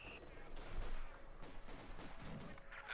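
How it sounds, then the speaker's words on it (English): Heavy mortar fire in the video game Company of Heroes 2 booms and rumbles through a dense battle mix, with crackling gunfire and explosions layered underneath. "Heavy mortar fire there"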